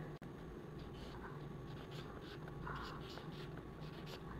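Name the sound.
writing on paper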